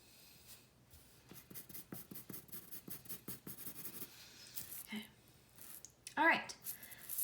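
A pencil scratching lines onto paper in a quick, rhythmic series of short strokes, faint and close, with lighter pressure as the strokes spread apart; a brief louder scrape near the end.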